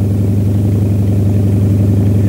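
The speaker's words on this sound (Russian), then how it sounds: "Опробование двигателя проводите при полностью открытых жалюзи капота и заслонке масторадиатора." Yak-52 aircraft piston engine running steadily on the ground during a run-up with cowl flaps open, a loud, continuous low-pitched drone with no talk.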